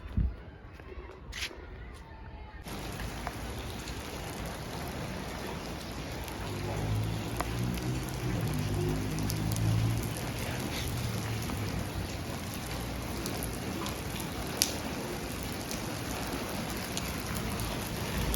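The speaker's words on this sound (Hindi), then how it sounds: "फाइनली बारिश आ चुकी है।" Steady rain falls and patters on surfaces after a short quieter opening, then keeps up as a dense, even hiss for the rest of the stretch, with no one talking.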